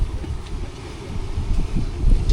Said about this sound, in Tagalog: Medyo nakakatakot lang magpalipad, malakas yung hangin dito.